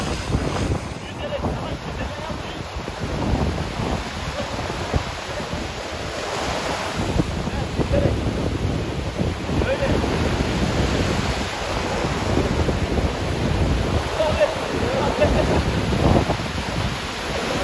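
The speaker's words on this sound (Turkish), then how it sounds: "şu an dalgalar aşırı fazla" Ocean waves roll and break continuously on a Thailand beach under heavy wind buffeting the microphone, a dense, steady roar with no clear pauses.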